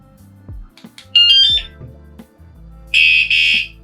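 A 113 dB bike alarm for a Super73 RX electric bike shrieks in two loud, piercing bursts, with fainter chirps and handling clicks between them.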